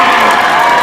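A basketball crowd roaring and cheering at a college game between UTM and Loyalist, a loud, sustained burst of voices filling the gym.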